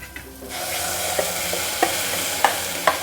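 Ground masala paste frying with browned onions in a pan for Malwani-style chhole, a steady close sizzle broken by several sharp clinks and scrapes of the stirring spoon, with no voices.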